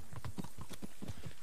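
A fast horse's hooves clip-clop in a quick, steady galloping rhythm in the video game Kingdom Come: Deliverance, close and clear with no talking over them.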